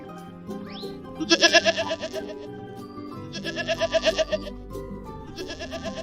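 Sheep bleat in two or three long, wavering calls, loud and close, over a light musical backing.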